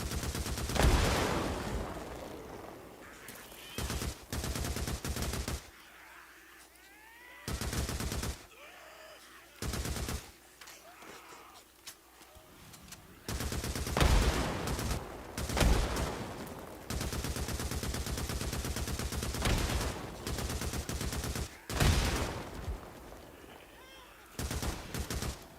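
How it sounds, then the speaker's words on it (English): Rapid bursts of gunfire from many weapons during a horde assault in the zombie game Days Gone, sustained volleys broken by short gaps, with a voice talking over parts of it. "How can so many bullets miss?"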